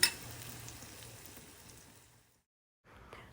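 Grated mango and ginger chutney frying in oil in a pan, a soft steady sizzle that fades out near the end, goes silent briefly, then resumes faintly.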